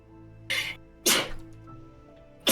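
Three sharp sneezes burst out in quick succession, close and loud, with quiet room tone between them and no talking.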